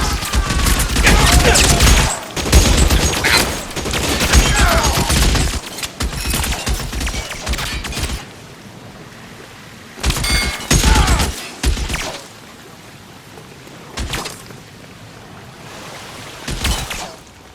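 Heavy gunfire in a shootout from the video game L.A. Noire, loud bursts of rapid shots rolling across the scene, with several pauses and some shouted speech mixed in.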